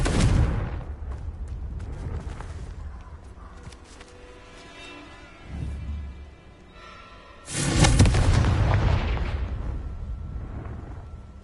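A Confringo blasting curse goes off in Hogwarts Legacy, a deep booming burst that swells twice against a rumbling low background, the second blast louder and longer with a crackling tail.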